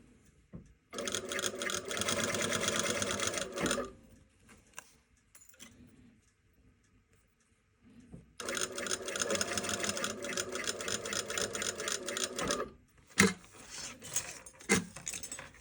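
A sewing machine runs in two steady bursts of rapid stitching, separated by a quiet pause with faint handling noises.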